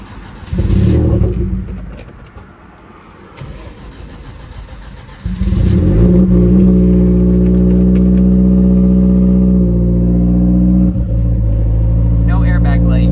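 A Genesis Coupe cranks with a brief starter whir, falls quiet, then fires up and settles into a loud, steady idle with some revving, heard up close with a person talking over it.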